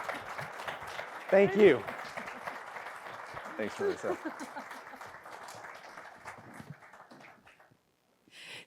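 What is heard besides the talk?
applause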